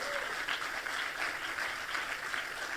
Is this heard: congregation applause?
yes